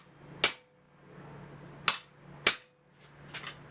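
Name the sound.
hammering a chisel held in vice grips into hot iron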